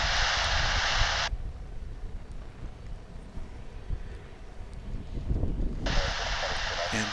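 An American Airlines Boeing 737-800 bound for Los Angeles at DFW airport gives a steady, fairly loud jet rumble, with a broad hiss rising at the start and again at the end.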